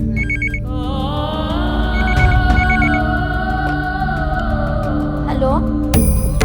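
A landline telephone rings in short repeated electronic bursts within a scene from an Odia television drama. The rings sit over loud, continuous background music.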